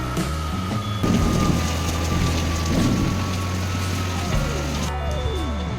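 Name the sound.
rain falling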